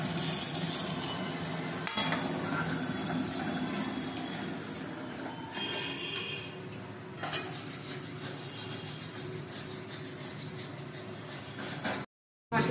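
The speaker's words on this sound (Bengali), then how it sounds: "মশলা কষা হয়ে গেছে, টমেটো কুচি দিয়ে দেবো" Masala with chopped tomato frying in a pan for a Bengali chicken curry, a steady sizzle under clattering utensils and pot scraping, with a brief silent gap near the end.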